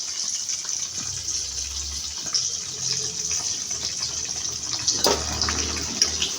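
Akbare chillies dropped into hot oil for pickle: a steady hissing sizzle throughout, with a louder spattering burst partway through, no talking.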